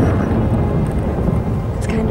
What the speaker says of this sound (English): Is that a storm?